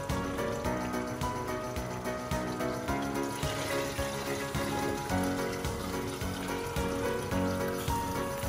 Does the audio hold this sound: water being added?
yes